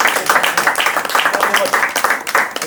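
Under-15 football players clap for themselves after a match, a quick rhythmic burst of close, loud hand claps that continues steadily throughout.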